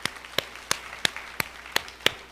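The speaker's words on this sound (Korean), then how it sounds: "깨닫는 하나님께 박수로 영광을 드리겠습니다." A church congregation claps in unison, seven sharp, evenly spaced claps in a brisk steady rhythm, fairly close, with no talking over them.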